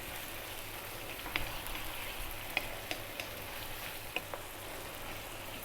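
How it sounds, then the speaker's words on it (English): Chicken pasta sauce frying in a pan while being stirred, a steady soft sizzle with scattered light clicks of the spoon against the pan, quiet and close. "We're going to cook this for about another 3 minutes only, stirring all the time."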